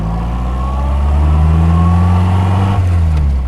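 A 1948 MG TC drives along with its engine loud and close, a steady low drone that rises slightly in pitch as it pulls, with no talk.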